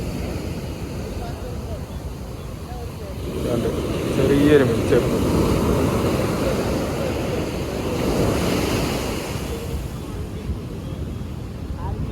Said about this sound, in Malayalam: വെള്ളം നല്ല തിരയാണ് നല്ല തിരയാണ്